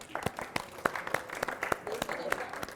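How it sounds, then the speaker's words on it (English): A small seminar audience at a team-building event in the Hilton Barbados gives scattered applause: sharp, distinct individual claps in an uneven rhythm, fairly quiet, with voices murmuring underneath. "Let's give Peace a round of applause."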